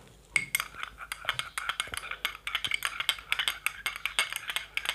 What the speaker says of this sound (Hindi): इसको अब हम मिक्स करेंगे स्पून की हेल्प से